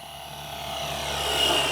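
An RC Cobra 500 helicopter flies overhead, its rotor whine and buzzing growing steadily louder as it approaches, with no talk.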